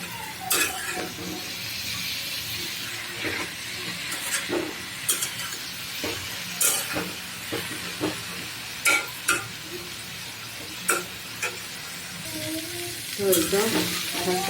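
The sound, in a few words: greens frying and stirred in a pan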